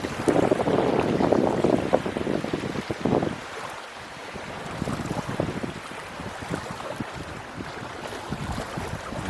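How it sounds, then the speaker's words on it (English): Strong gusting wind whips across open water beside woods, roaring loudly in the first few seconds, easing briefly, then rushing back in steady broadband gusts with a choppy, wave-like churn. "it is super windy out here again today"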